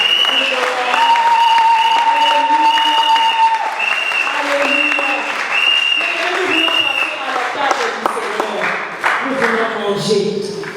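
A church congregation applauding during a service, with loud, sustained clapping for around ten seconds and steady tonal music underneath.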